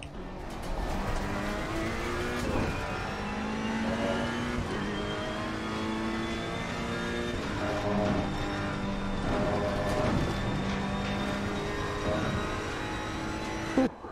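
Ferrari race car engines in a racing video game roar steadily with layered revving and shifting pitches, several cars blending together in a continuous loud drone, with no talking.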